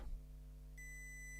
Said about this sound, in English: It beeps at the beginning, but this is just because of the charging.